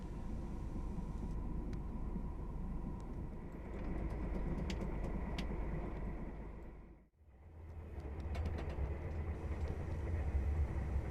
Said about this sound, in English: as the train makes local stops throughout the night.